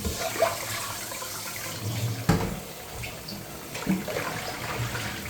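Water runs and splashes as ndole leaves are rinsed over a bowl, a steady, moderately loud wash with a couple of brief sharper splashes and no talking.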